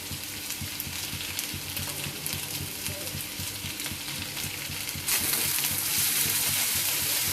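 Sliced potatoes for aloo bhaji hit a pan with a little onion and fry with a steady close sizzle and soft stirring, and the hiss swells louder in the final couple of seconds, with no speech.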